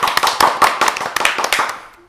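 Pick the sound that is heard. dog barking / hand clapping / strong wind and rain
hand clapping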